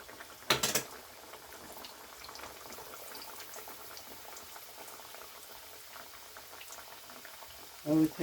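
Sugar syrup for sweet sata boils steadily in a pan with soft bubbling, broken by a brief loud clatter near the start and another at the end.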